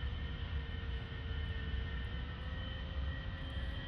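An A-4E Skyhawk jet engine in a flight-simulator game spools up on the ground as the throttle is advanced, giving a loud, continuous roar with a steady whine layered on top, with no voices.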